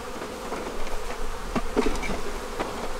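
A dense, steady drone of many honeybees buzzing up close at an open hive during a hive split, with occasional individual bees zipping past near the listener.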